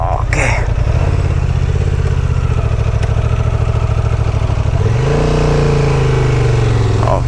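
A Honda Transalp 750 motorcycle labours off-road up a slope, its engine loud and close with a steady low drone that rises in pitch as the rider opens the throttle partway through.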